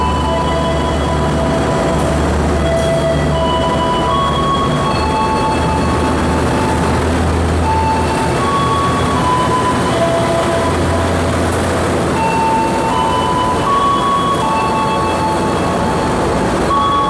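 An inspection train rumbles along the tracks nearby on an Indonesian railway line, a loud continuous roar with rattling wheels and occasional metallic tones throughout.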